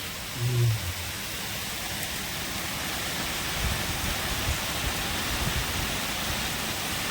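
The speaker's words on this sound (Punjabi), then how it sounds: "ਜਿੰਨਾ ਮੀਂਹ ਪੈਂਦਾ ਪਿਆ" Heavy rain pours down over freshly planted paddy fields as a thick, constant hiss of drops, steady and close, with a brief low thump near the start and no speech.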